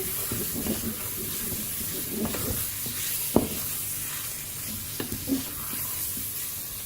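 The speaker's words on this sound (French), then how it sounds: "je saupoudre avec la farine. Je tourne, je mélange." Veal dusted with flour being stirred in a Cookeo multicooker for blanquette de veau, a soft continuous sizzle with scattered scraping strokes and a single sharp knock near the middle.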